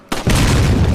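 A loud explosion in the video game Resident Evil 4, a sudden booming blast that hits hard and then rolls on as a sustained, rumbling roar, close and heavy, with no voices.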